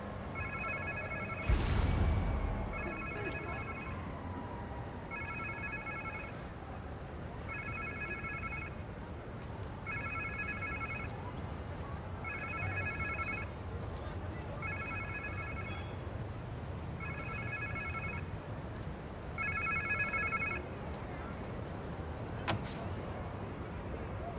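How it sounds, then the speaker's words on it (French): An old-style telephone bell rings in a steady pattern of about ten short bursts, evenly spaced over a quiet low background hum, with a louder thump near the start. "On dirait un téléphone."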